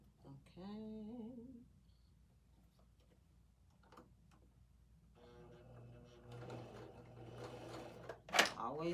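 A home sewing machine stitching fabric: a faint, rhythmic mechanical ticking and whirring that picks up after a quiet stretch, with a few brief sounds early on.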